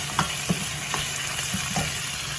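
Crushed garlic being stirred into hot oil in a frying pan, a steady sizzle with a few soft knocks of the spoon scraping the pan at irregular intervals.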